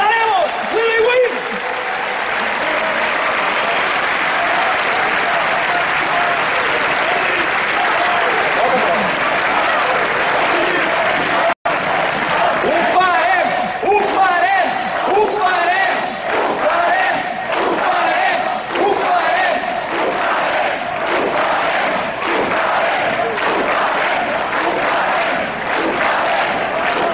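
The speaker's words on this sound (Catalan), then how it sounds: "Un fort aplaudiment" Loud, sustained applause and cheering from a large crowd at a political rally for Catalan democracy and institutions, dense and continuous throughout, with a brief cut midway and shouts rising above the clapping.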